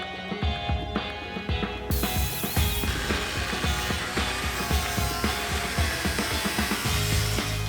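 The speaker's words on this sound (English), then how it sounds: "So we're loosening the rear bumper here because there's more rust to remove." A ratchet tool cranks loose fasteners on a rusty Mazda Miata rear bumper, loud and near, with rapid repeated pawl clicks and a dense metallic mechanical clatter throughout.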